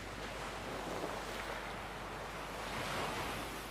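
Ocean waves wash onto the beach along the Cipatujah coast, a steady broadband roar of surf with gentle swells and light wind noise, no voices.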